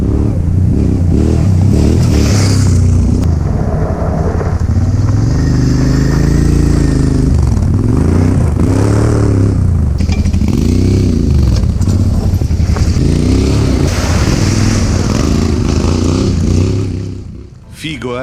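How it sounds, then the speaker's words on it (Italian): A Suzuki V-Strom 650 K-series with a Leovince SBK Oval Evo 2 full exhaust, rumbling loudly up close and revving repeatedly in rising and falling sweeps, dropping off at the end. "Io sulla mia Strom ho montato un Leovinci SBK Oval Evo 2, scarico completo"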